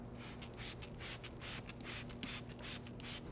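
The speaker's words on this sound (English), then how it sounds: "spray directly onto the surface" A rapid series of short spritzes from a trigger spray bottle of cleaner onto upholstery, about a dozen quick bursts in an uneven rhythm, close and fairly quiet.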